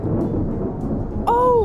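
Thunder rolls through a Roblox Bloxburg thunderstorm as a steady, heavy low rumble lasting over a second, then a voice cries out in a drawn-out exclamation on top of it.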